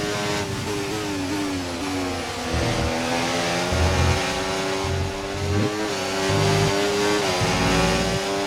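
Formula 1 race car engine in the game F1 24, a loud high-pitched whine rising and falling through gear shifts, with sharp revving surges and quick downshift blips over a steady rumble.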